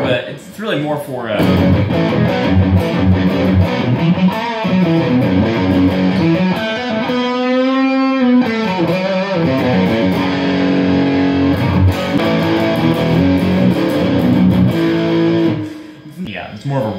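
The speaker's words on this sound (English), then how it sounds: "yeah, it's more of a rock distortion, I would say." Loud distorted electric guitar, a humbucking Strat through a Blackstar HT Club 40 MKII tube amp, plays rock chords and bends, thick and saturated, sustained throughout and close, with a short drop near the end.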